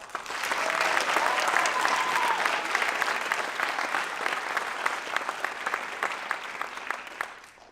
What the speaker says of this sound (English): So one more round of applause.